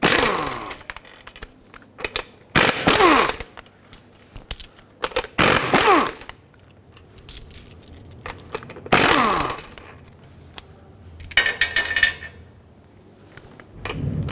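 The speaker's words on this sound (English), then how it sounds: "With a 19mm socket, remove all 5 of your lug bolts and pull the wheel off." A ratchet or impact tool with a 19mm socket spins off the five lug bolts of a 2011-2018 Volvo S60 front wheel, several loud whirring bursts separated by metallic clinks of bolts and socket, close up with no talk.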